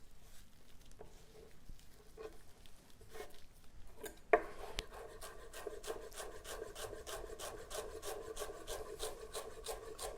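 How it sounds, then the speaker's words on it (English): A knife chops fresh cilantro, stems and leaves together, on a cutting board: a few scattered taps and scrapes give way to a close, steady run of quick rhythmic chops with no talking. "So we chop it all together."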